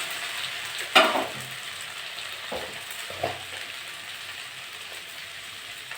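Okra and potatoes fry in a pan, giving a soft continuous sizzle with a few brief scraping stirs and clatters; no voices.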